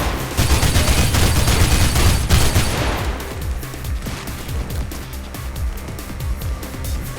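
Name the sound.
gunshots in the video game Mirror's Edge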